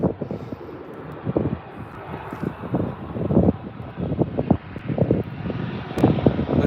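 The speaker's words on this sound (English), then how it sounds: "This, I believe, is going to be the last Super A380 of the day to land on the north side." Airbus A380 coming in to land on runway 24R at LAX, a fluctuating jet engine roar with gusty wind buffeting the microphone, moderately distant and heard without talk.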